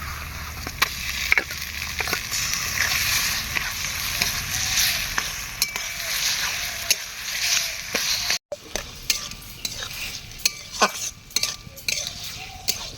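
Cauliflower florets frying with onions and chopped green chilli in an oiled pan, a steady close sizzle broken by scraping spatula strokes and a few sharp clinks of metal against the pan.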